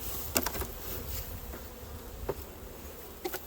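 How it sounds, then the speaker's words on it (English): Honey bees hum softly in a hive opened for a late-February inspection, a faint continuous buzz with a few light taps and clicks from handling. "they got some bees down there"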